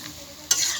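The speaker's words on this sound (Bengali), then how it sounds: "আলু সয়াবিন তরকারি বানাচ্ছি।" Potato and soybean curry frying in a pan, with a soft sizzle and then a sudden scraping stir midway that brings a brighter, louder hiss.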